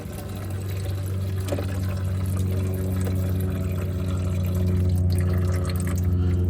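Coolant draining from a leaking Camaro SS with an LT1 engine into a pan, a continuous trickling pour that grows slightly fuller, heard up close with a faint hum underneath.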